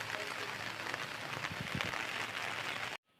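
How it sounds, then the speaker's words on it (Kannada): Rain falls steadily in a dense hiss, fairly faint, with scattered patter and drips, then stops abruptly. "ಮಳೆ ಆದ್ಬಿಟ್ಟ ಹೆಂಗಿದೆ"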